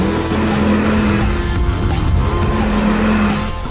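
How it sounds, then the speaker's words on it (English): A Porsche 911 Turbo S in PSM sport mode roars at speed, a loud, sustained engine drone with tire noise, close and continuous without talk. "It's the first time for me to drive the Porsche Turbo S"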